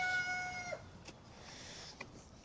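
Faint chicken calls: a brief drawn-out squawk at the start, then a couple of soft clucks against quiet farmyard background.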